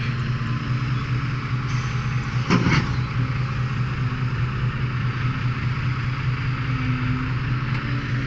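An Isuzu truck engine runs with a steady, moderately loud mid-range drone throughout, plus one brief louder rattle partway through.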